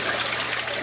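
A water pump runs water through a sluice box in a greenhouse, a steady, close, low trickling flow with a faint constant hum beneath.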